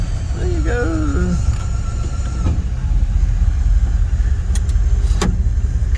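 A classic Chrysler New Yorker drives along with a steady engine and road rumble from inside the cabin, with brief squeaks and clicks and a person speaking over it.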